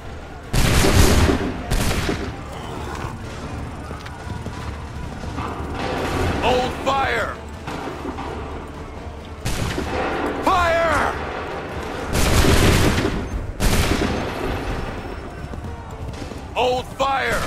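Musket volleys ring out in Assassin's Creed III Remastered: several loud bursts of massed gunfire, with heavy clusters near the start, around six to seven seconds, at about ten seconds and again near twelve seconds, set over constant battle ambience and mechanical clatter.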